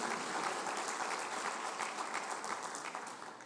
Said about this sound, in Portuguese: Diga glória a Deus, e as palmas para o Senhor